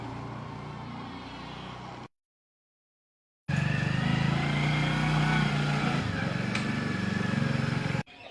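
A motorcycle engine idles with a steady mechanical drone, cutting out briefly to silence before resuming at a louder, rougher rumble.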